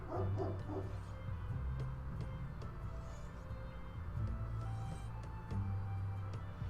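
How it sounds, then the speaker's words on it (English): A dog barks in a Final Fantasy XIV game scene, giving a few yapping barks near the start, then faint intermittent yips and whimpers over a low steady background. "What's he barking at now?"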